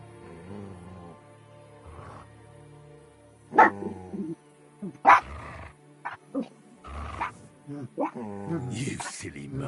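A dog barks in short, sharp bursts in Kingdom Come: Deliverance II, with several loud yaps scattered among steady talk from a voice.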